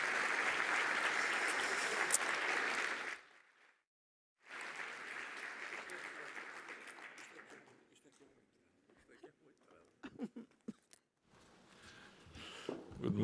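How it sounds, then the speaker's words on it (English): An audience at the opening ceremony of a seed industry congress applauds a minister's arrival, a full dense clapping that breaks off briefly, resumes, then thins into scattered claps and rustling. "A round of applause."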